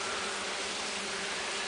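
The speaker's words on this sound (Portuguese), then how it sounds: "Olha o fuzuê que está nas caixas" Mandaçai stingless bees swarming and humming around their hive boxes on a rainy day, a dense continuous buzz that is close and steady, with no one talking.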